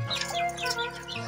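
Bright, rapid bird chirps and warbling tweets fill the short stretch, with a low steady hum underneath.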